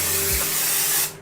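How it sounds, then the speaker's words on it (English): A steady, loud hiss of Sebastian Shaper Plus hairspray, a holding spray, sprayed onto the top of the head in one continuous burst that stops abruptly near the end. "just use the Sebastian Shaper Plus. I will have it linked down below, and I like to spray it on top of my head"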